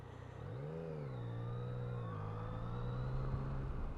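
A 2018/19 Yamaha Tracer 900 GT motorcycle engine hums steadily on a road test ride, its pitch rising and then settling into a sustained drone under wind noise, fairly distant and quiet.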